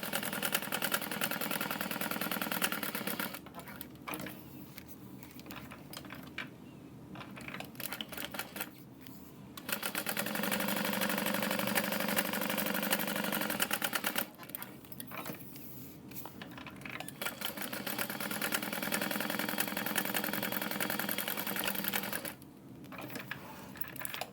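Sewing machine stitching the right sides of tote bag fabric together, running in several bursts of steady mechanical whirring and rapid clicking, separated by short pauses, close and moderately loud.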